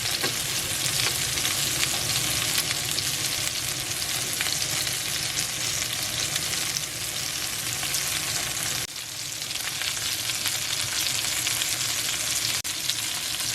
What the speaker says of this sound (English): Now I'm going to turn it onto the other side so that all the sides are evenly roasted and cooked.